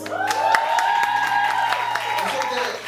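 An audience applauds and cheers a music group being introduced at a launch event, steady clapping with scattered sharp claps under a sustained tonal whoop or voice that carries throughout.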